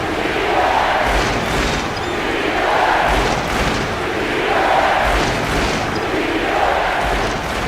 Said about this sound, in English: So loud with the crowd right now.